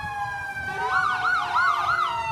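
Ambulance siren from a Central Oneida County ambulance rolling in a St. Patrick's Day parade in Utica, a repeating rising-and-falling wail that swells louder as the vehicle approaches over steady street background.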